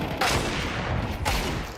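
Tech-9 and Desert Eagle gunshots in a Counter-Strike match at PGL Bucharest, two loud sharp bursts about a second apart over steady game ambience.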